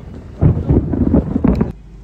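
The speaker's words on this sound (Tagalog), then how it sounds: "Medyo kumukulog pa dyan." A low, rumbling roll of thunder at the beach in the morning, rising and fading over a couple of seconds, heard close and loud with wind buffeting the microphone.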